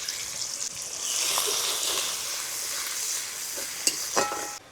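Chopped onion frying in a pan, a close, steady crackling sizzle that grows fuller after the first second, with a couple of brief clacks of stirring near the end and no voices.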